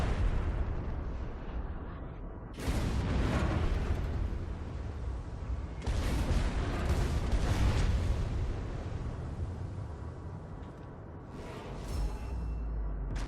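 World of Warships battleship guns fire a broadside at a cruiser, with several loud, roaring blasts of big-gun fire arriving in clusters over a constant rumbling naval battle din.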